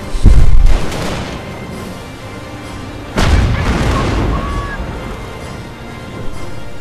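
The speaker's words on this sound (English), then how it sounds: "We've just got the green light to deploy creeping barrages." A creeping artillery barrage in the Company of Heroes strategy game: two heavy booming impacts a few seconds apart, each followed by a rumbling decay, with scattered smaller battle noise and a faint whistle between them.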